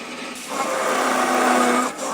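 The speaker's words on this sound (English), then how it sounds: "Now we move on to removing the excess wood with the saw." A hand or power saw roughing excess wood off a smoking pipe block, a steady buzzing cutting drone that rises after a brief quiet start, runs loud and continuous, then drops near the end.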